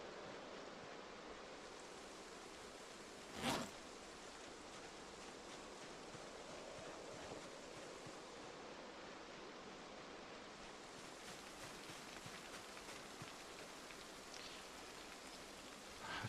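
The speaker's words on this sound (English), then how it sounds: "I have no idea if this is heavy rain or so" Steady rain falls in the Project Zomboid video game, a continuous broadband hiss of drops with one sharp brief crack partway through and a faint tick near the end.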